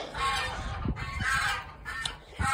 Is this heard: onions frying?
no